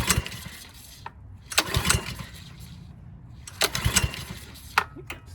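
A small gas pressure washer engine is yanked with its pull cord in two or three bursts, sputtering briefly without catching, with a quiet pause between pulls.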